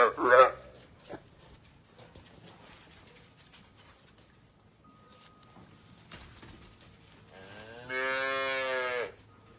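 Steers on a 25-acre pasture give a loud moo near the start and a long, drawn-out moo near the end, with quiet, mostly empty outdoor air between them.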